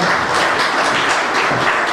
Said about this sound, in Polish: Dziękujemy serdecznie panu pułkownikowi brawa